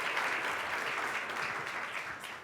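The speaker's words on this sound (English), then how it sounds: "Let's just keep on clapping." Lecture audience claps for Professor Stephanie Robinson, a full, continuous round of applause from a large crowd that stays strong, then eases slightly at the end.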